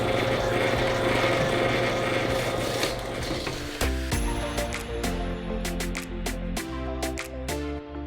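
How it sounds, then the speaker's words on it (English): A juicer pressing halved celery stalks gives a loud, continuous mechanical grinding whir, then turns into strained creaking with sharp snaps and crackles as the stalks feed through. "I've chopped it in half to make it easier to run through this juicer"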